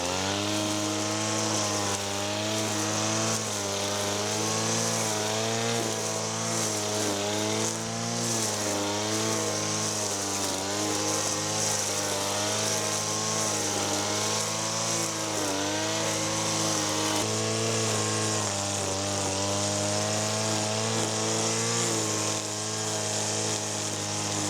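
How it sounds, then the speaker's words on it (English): A strimmer trims grass along the edges of garden beds, its small engine whining loud and steady at close range for the whole stretch, the pitch wavering slightly as the line cuts, with no talking. "And something else you can do with a strimmer, you can really get the edges of any beds looking like a razor."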